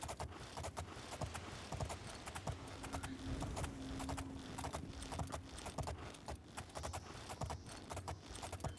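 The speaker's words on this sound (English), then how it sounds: "But this is galloping speed." Rapid, steady hoofbeats of a galloping horse in Oblivion, clip-clopping in a quick even rhythm with a faint sustained tone in the background.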